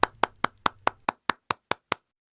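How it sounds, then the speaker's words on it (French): Clapping in welcome for a pastor at a special online conference: about ten crisp, evenly spaced claps at a steady rhythm, gradually quieter, then silence. "Veuillez l'applaudir chaleureusement."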